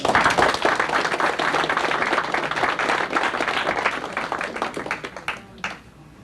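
Audience at a July 1990 Carden family reunion breaks into dense, sustained clapping that stays loud and steady for several seconds before thinning out and fading near the end.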